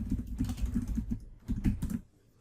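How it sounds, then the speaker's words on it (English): Keys clatter in quick uneven bursts on a computer keyboard for about two seconds, close and fairly loud, then the tapping stops and the room falls quiet. "Let's type that in here"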